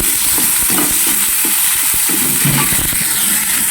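Garlic, onion and tomato fry loudly in a pan, with a steady close hiss of oil and the scraping clinks of a utensil stirring the mix throughout.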